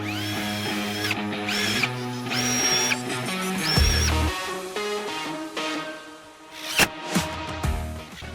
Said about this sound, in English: just using the countersink bit, and then screwing these screws in